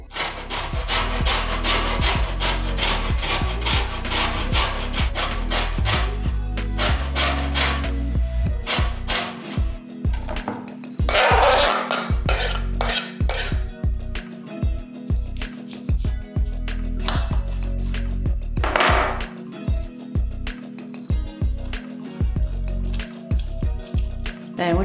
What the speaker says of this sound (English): we're going to zest it and then juice it.